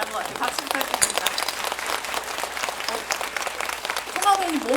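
Audience applause fills a large multiplex cinema hall during a live movie talk event with the cast and director, a steady wash of clapping throughout, with a voice briefly heard toward the end.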